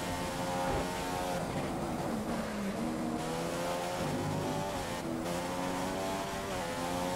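Formula 1 race car engine in the F1 2015 video game, a steady high-pitched whine holding a continuous drone with shifting pitch as gears change, running alone at moderate level throughout.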